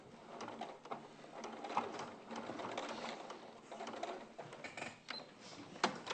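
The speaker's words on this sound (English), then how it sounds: "I'm just basting the ears on, but I did it quite slowly because you're going through quite a few layers at this point." A sewing machine stitches slowly through several thick fabric layers, basting ears onto a polar bear soft toy, giving a steady mechanical whirr with small clicks and bumps, fairly quiet and close, with no speech.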